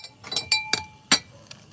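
A glass vessel of nitric acid solution being stirred during gold refining: a handful of sharp, ringing clinks of a rod against glass, close and distinct, spaced irregularly over a short moment.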